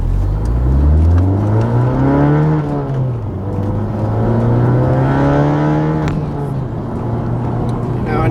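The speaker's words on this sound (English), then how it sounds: "even under normal acceleration, you definitely get a little more grunt out of the exhaust" Honda Civic Type R with a full bolt-on exhaust and the valve fully open, engine note rising through gears under acceleration with deep droning exhaust grunt, loud and close from inside the car.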